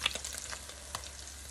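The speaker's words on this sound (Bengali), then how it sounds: "মাছ ভাজা হোক এদিকে" Fish frying in oil in a pan, a continuous close crackling sizzle with a few brief spatters and a low steady hum underneath, no voices.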